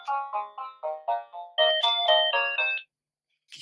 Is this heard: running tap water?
no